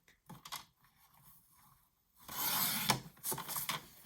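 A 6x8 paper sheet is sliced on a trimmer along the 6-inch score, giving short faint scrapes followed by a louder rasping cut.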